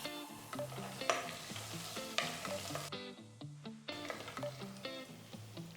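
Slit green chillies, asafoetida, curry leaves and cashew nuts sizzling in hot oil for a tempering, a steady close frying crackle with a few stirring clicks and scrapes.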